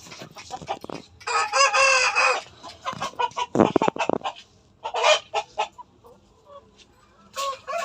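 Country chickens, roosters, hens and chicks at a poultry yard in Nizampatnam cluck and squawk in busy overlapping bursts, with a rooster crowing loudly near the start and scattered calls continuing throughout.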